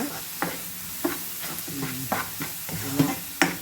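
Onion sautéing with salt in a pan, a soft steady sizzle with regular stirring scrapes and light spoon taps roughly every half second, up close.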